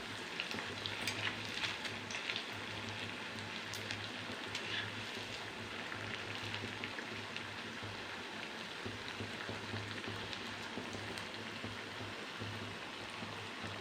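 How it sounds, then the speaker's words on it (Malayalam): Bondas deep frying in oil produce a steady, even sizzle with fine crackling, close and unbroken throughout, with no voices. "അപ്പം നമ്മൾ ബോണ്ടൊക്കെ നല്ല ഫ്രൈ ആയി വരുന്നുണ്ട്"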